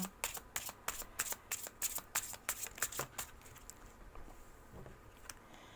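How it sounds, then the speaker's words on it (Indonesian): A deck of tarot cards is shuffled by hand in quick, crisp riffling bursts for about four seconds. A few faint taps follow in near-quiet. "Kita akan shuffle kartunya, fokus ya."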